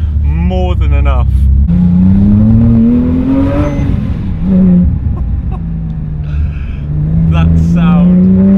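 A Porsche 997.2 GT3 sports car engine revs up and down repeatedly toward 8,000 rpm, its pitch climbing and falling, loud and close, with some talk over it.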